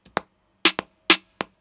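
Dry snare drum for a riddim beat, struck a handful of times in a loose, uneven pattern, each hit short, tight and close with a quick decay and nothing else in between.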